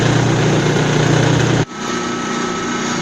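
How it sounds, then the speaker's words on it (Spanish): A single-phase electric motor runs with no load connected, giving a loud, steady hum and whine that drops abruptly partway through, then continues at a lower, quieter level. "En esta condición de operación el motor está trabajando vacío, no tiene carga conectada"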